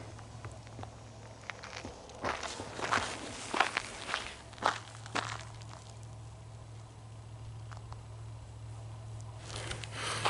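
Footsteps on an outdoor path during an evening nature walk, a few soft, irregular steps close by over a steady low background hum, with no talking.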